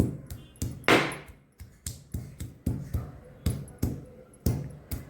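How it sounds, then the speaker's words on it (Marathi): Garlic cloves being crushed for tempering, a quick series of sharp, close pounding knocks in a steady uneven rhythm, each hit a crisp thud with a short tail, about a dozen strikes with no speech. "लसूण घेतलाय फोडणीसाठी तो जरा ठेचून घेऊ।"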